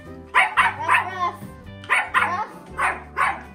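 A dog lets out several loud, close barks and yips in two quick bursts while playing with a toy bear indoors.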